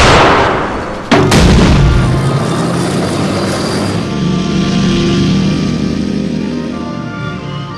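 A single loud, close gunshot cracks about a second in, then a long booming rumble and reverberation fade out slowly over the following seconds, with no voices heard.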